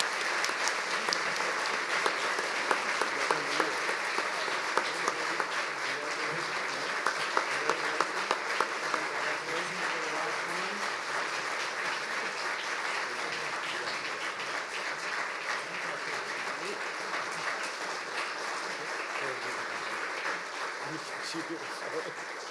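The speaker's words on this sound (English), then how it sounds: "Let's give them a round of applause." Audience applause for award recipients at the 43rd Annual Preservation Awards, a long, steady wash of many hands clapping that sustains evenly throughout at moderate loudness.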